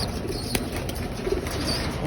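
Loft pigeons coo softly in the morning, a low murmuring call under steady background hiss, with a brief clap or flutter near the start.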